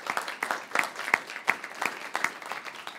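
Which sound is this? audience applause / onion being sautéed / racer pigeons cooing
audience applause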